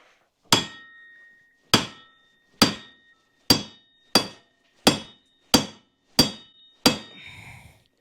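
Nine sharp, ringing metal blows from a hammer driving out an ATV wheel bearing, evenly spaced and close, each decaying quickly, followed by a short rattling clatter.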